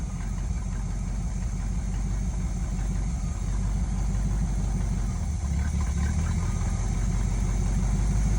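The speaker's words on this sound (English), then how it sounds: "She's running. She's idling." The engine of a 1971 Chevy C10 pickup idles steadily, a close, continuous low rumble that holds an even rhythm throughout without revving.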